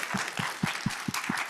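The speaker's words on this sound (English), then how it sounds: "let's give him a round of applause" Audience at an education technology event applauds, a short burst of rhythmic clapping heard fairly faintly and alone.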